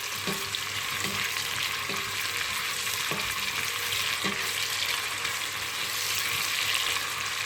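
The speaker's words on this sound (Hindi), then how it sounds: "अब इसमें मैं ऐड करूँगी ये प्याज, और प्याज को फ्राई करना है" Chopped onions frying in hot oil in a pan for aloo matar keema, a loud, steady, dense sizzle with a few faint knocks of a spoon against the pan.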